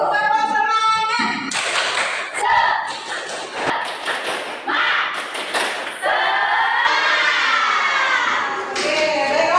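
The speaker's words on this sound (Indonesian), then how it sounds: "Ya, kita tepuk tangan dulu. Tepuk semangat." A classroom of students claps hands together in a rhythmic encouragement clap, loud bursts of group clapping alternating with a teacher's speech and steady chatter, close and lively.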